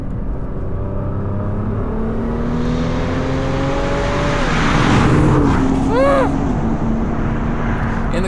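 A 2021 Nissan GT-R engine revs up and accelerates, rising in pitch to a loud peak before easing off, with a strong, near drone and rushing air around it.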